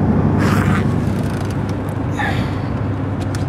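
Steady, loud road roar from inside a car cruising at 65 mph on a highway, a continuous low rumble of engine and tires with wind hiss rising briefly, no talking.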